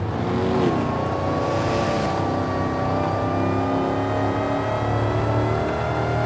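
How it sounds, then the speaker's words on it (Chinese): A Dodge Challenger SRT Demon, a high-horsepower rear-drive muscle car in the Forza racing game, holds a loud, steady engine drone under sustained throttle for the whole stretch, with no voices over it. "转弯时候猛踩油门，踩到底它就会打滑，直接甩尾漂移"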